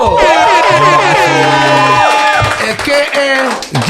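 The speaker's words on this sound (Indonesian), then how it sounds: "tepuk tangan paling meriah buat Laurentius Rando." A studio crowd on the PWK show loudly cheers and whoops to welcome guest Laurentius Rando. Shouting voices and whistles overlap close by, with little distinct clapping, easing slightly near the end.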